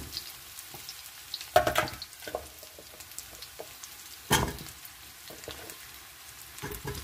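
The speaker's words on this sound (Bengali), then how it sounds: "এবার আমি দেবো এর মধ্যে কেটে রাখা আলু" Cut potatoes go into a pan of sizzling fried onions, producing a soft, steady frying hiss punctuated by a couple of louder bursts and scattered stirring clicks, close and fairly quiet.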